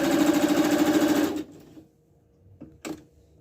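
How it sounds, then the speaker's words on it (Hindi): Singer SN777 sewing machine stitching a simple straight stitch: a fast, even mechanical whirr for about a second and a half, close and loud, then it stops, followed by a couple of faint clicks. "ये सिंपल सिलाई है"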